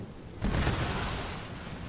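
A ship's cannon fires in the Skull and Bones video game as a single booming blast with a low-heavy thud, then a long rushing, roaring tail that slowly fades.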